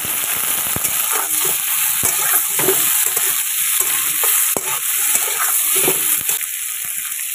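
Browned onions and potatoes fry in a pan with salt, making a loud, continuous sizzling hiss with scattered crackles and stirring clatter throughout.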